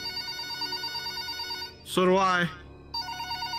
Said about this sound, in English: I hear another phone.